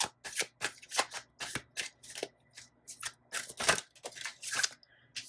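A deck of tarot cards is shuffled by hand close to the microphone, a rapid series of crisp riffling bursts and flicks with brief pauses between them and no talking.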